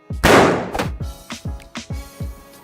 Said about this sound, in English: Is that gunfire? Sure is.